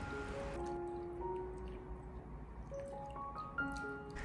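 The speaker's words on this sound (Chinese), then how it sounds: "用手给它抓拌几下，将莲藕清洗干净，清洗掉莲藕表面的淀粉" Sliced lotus root stirred and squeezed by hand in a large bowl of water to rinse off surface starch, giving soft continuous sloshing and dripping, with a faint tonal backing throughout.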